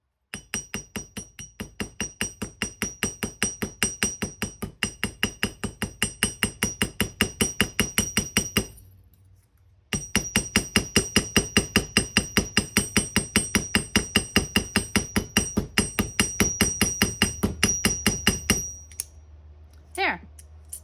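Hammer doming odd-shaped sheet metal: a long run of rapid, evenly spaced ringing metallic blows, close and loud, pausing briefly midway before resuming, then stopping with a few faint clinks at the end.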